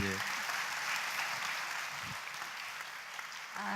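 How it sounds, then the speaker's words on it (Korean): Parents in the audience of a school talk concert in Ulsan giving a round of applause, a steady even clapping heard fairly faintly at a distance, with a brief voice at the start and end. "박수 한번 주시죠."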